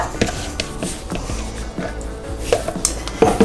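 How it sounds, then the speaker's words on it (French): Muffin batter is folded with a spatula as wet ingredients meet dry ones, heard as soft scraping and irregular knocks against the mixing bowl, close and fairly loud, with no talking. "on l'incorpore aux ingrédients secs, donc tous ensemble, avec la maryse de Rebecca"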